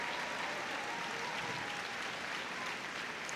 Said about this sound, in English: what a cheer goes up for her